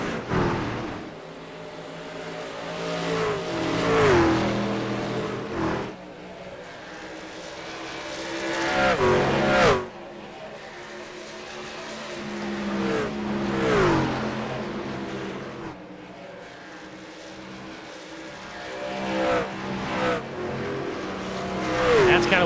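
Trucks race at Darlington in a sim racing game, engines roaring and revving through the corners with repeated rising pitch sweeps and tire squeal. A commentator talks over the loud, continuous race noise.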